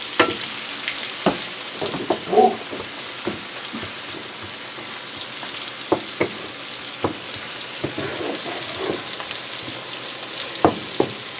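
Mushrooms and onions sizzle steadily in a frying pan, a continuous crackling hiss broken by scattered sharp pops and occasional stirring clicks, close and with no voices.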